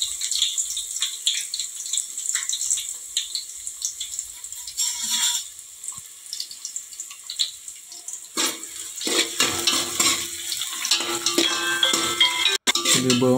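Onions and green chillies fry in hot oil for chicken biryani, a continuous hissing sizzle with scraping and clinking as they are stirred, close up and with no talking.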